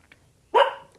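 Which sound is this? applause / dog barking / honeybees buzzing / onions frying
dog barking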